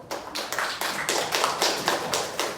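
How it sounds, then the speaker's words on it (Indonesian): A classroom of children claps for a group, a dense, busy patter of many small hands, fairly close and steady for a few seconds with no talking. "kita tepuk tangan dulu untuk kelompok 1"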